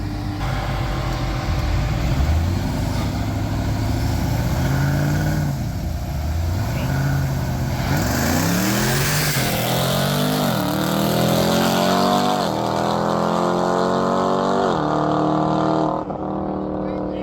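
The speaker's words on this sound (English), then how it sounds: "Try this grudge run again and get more of a, I guess you'd say, get them both off the line, fair start." Two no-prep drag cars launch together in a grudge run at Darlington Dragway, loud engines roaring and rising through gears in repeated sweeping pitch climbs before fading away.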